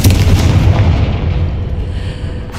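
The Confringo explosive spell in the video game Hogwarts Legacy goes off as a loud, deep booming blast with a rumbling roar that slowly fades, with no talking over it.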